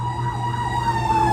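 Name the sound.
fire truck siren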